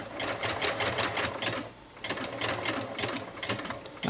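A sewing machine runs in steady rapid bursts while stitching a finishing seam along an elastic anti-chafing band, pausing briefly midway before resuming, loud and close.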